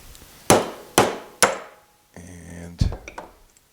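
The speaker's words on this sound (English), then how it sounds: "take me a center punch, put it down in the middle, and tap it a few times with a hammer" A hammer taps a center punch three times on a Milwaukee hammer drill gearbox during a repair, sharp metallic strikes in an even rhythm, followed by a brief metallic rattle and a few softer clinks close by.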